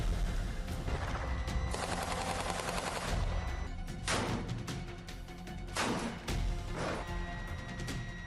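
Dense war-zone gunfire and bombardment during strikes on military sites and missile launch positions, with rapid bursts of shots and heavy blasts rolling continuously and loudly throughout, no voices.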